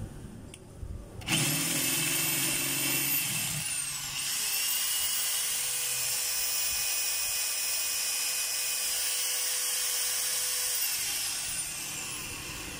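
A DeWalt D25133 rotary hammer drill runs loud and close with a steady high-pitched whine after a brief start-up, holding for about eleven seconds before winding down near the end.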